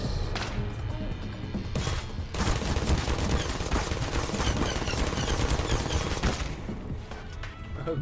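Turrets firing in the Portal video game: a dense, loud, continuous rattle of rapid automatic gunfire filling nearly the whole stretch, with brief dips before it cuts off near the end, no voices.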